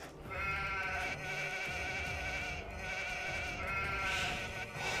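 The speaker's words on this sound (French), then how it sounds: "Il y a un mouton qui dort là." Sheep in an Age of Empires 2 match bleat repeatedly in a clear, nasal, wavering cry, several calls in a row standing out loud against quiet game ambience with no talking.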